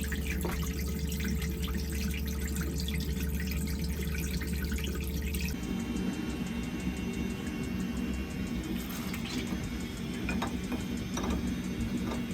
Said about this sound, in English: I'm currently doing some maintenance on the boat by draining water from all the systems which contain it